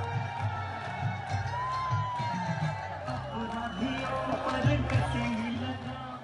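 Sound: huge crowd cheering at Mayawati's campaign rally in Meerut

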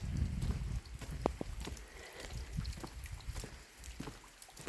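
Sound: rain falling outdoors

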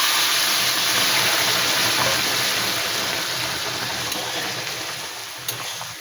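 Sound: hot water poured into pan of taro and shrimp curry

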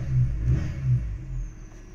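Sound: Peugeot 1.6 chain-driven car engine revving and hunting

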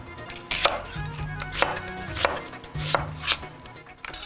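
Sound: chopping Vidalia onions for caramelizing

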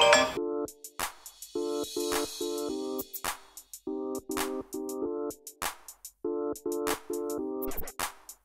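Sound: phone ringing with incoming call

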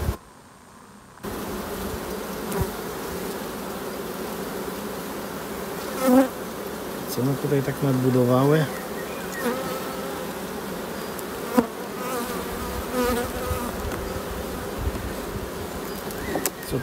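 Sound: honeybees buzzing at hive frames

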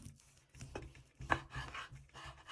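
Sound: knife slicing smoked meat (pidhornytsia)

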